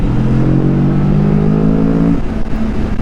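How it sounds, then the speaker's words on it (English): A 2022 Kawasaki Vulcan S motorcycle fitted with an aftermarket exhaust pipe, its engine holding a loud, steady rev with a strong low drone for about two seconds before easing back toward idle. "can y'all hear the bike?"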